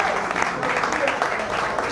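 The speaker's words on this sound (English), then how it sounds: "Please give him a round of applause for his leadership" An audience applauding at a university scholarship fundraiser brunch, a dense steady patter of clapping from many hands filling the whole moment, with voices mixed in.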